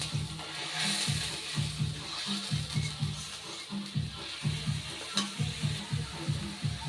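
Marinated paneer frying in a pan on a stovetop, a soft steady sizzle with repeated scraping stirs in an even rhythm, close and moderately loud.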